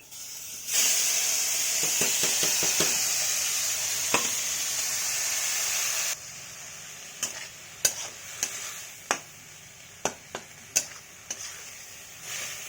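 Small salted prawns fry in oil in a wok with a loud, steady hissing sizzle for about six seconds, followed by quieter frying broken by a series of sharp utensil clinks and taps.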